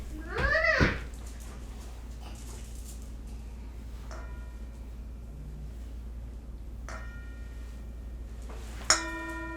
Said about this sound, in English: So I'll ring the bell